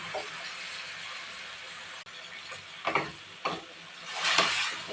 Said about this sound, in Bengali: কষিয়ে নেবো ভালো করে।